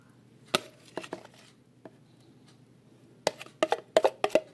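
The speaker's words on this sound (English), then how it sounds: "I'm gonna spoon the rest out" A spoon scoops banana pudding out of a bowl, giving one clink, a few soft knocks, then a quick cluster of close clinks and taps against the dish at the end.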